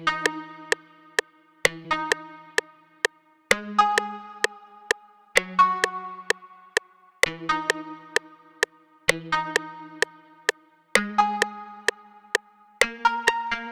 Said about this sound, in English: This is the PL ambient guitar preset in the plucked categories.